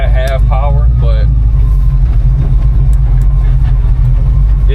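A 1951 Chevrolet 3100 pickup truck with a performance cam rumbles at idle, loud and close from inside the cab with a deep, lumpy low-end throb; someone talks briefly at the start over the engine.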